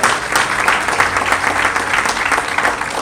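An audience at the Bizness Utsav 2024 business event applauds a sponsor. The clapping is dense and steady, loud and close, and lasts about three seconds without a break.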